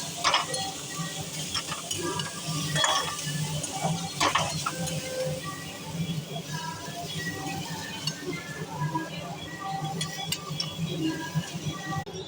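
Flattened rice (chira) with turmeric and salt is stirred in a pan, a continuous scraping and rustling with a soft sizzle and occasional clinks of the spoon against metal, close and steady.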